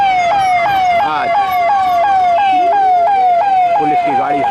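A police car siren wails loud and close in a fast repeating yelp, sweeping down in pitch over and over, with faint voices and traffic underneath.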